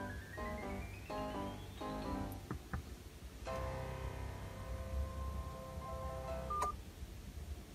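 A phone dials out, first a rapid run of keypad tones, then a longer steady electronic tone as the call connects. It sounds close and clear, with no talking.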